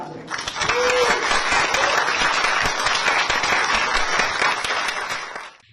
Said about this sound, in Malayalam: തിങ്ങി നിറഞ്ഞ സദസ്സ് കയ്യടിയോടെയാണ് നാടകത്തെ വരവേറ്റത്.